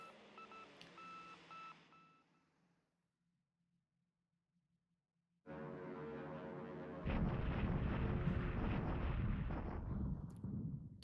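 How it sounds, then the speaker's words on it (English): Airstrike explosions in the War in the Pacific video game: a beeping electronic tone fades to near silence, then a dense rumbling barrage of blasts builds and holds loud and steady to the end. "let's see what we get for airstrikes today"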